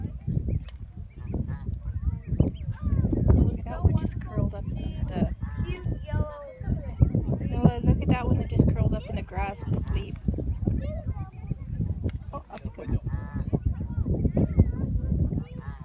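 Canada geese honk loudly and repeatedly near a park river at Hawrelak with goslings around, a dense overlapping chorus of close nasal calls that runs throughout, with voices audible among them.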